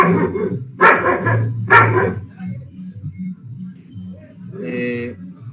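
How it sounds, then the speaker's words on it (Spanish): A small dog barks three times in quick succession, loud and close, followed by a shorter yip or whine a few seconds later, with a low hum in the background between barks. "tal vez ya nos sigue molestando el perrito"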